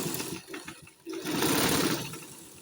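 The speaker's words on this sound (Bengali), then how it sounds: "আমি সেলাই করে দেখাইতেছি" Domestic sewing machine running close up as it stitches through fabric to test the upper thread and bobbin tension, a steady mechanical whirr that pauses briefly before resuming louder and continuous.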